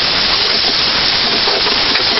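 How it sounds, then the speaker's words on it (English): An air compressor blows a steady, loud rush of air that hisses continuously without a break out of a nozzle close by. "My wife hates compressors. They're loud, noisy"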